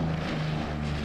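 A propeller-driven recon plane drones steadily in the Winter War strategy game Order of Battle, a continuous low engine hum at moderate level with no other sounds.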